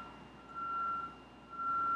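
A truck's reversing alarm gives two steady, piercing electronic beeps, distant and moderately faint, over low outdoor background hum with no talk.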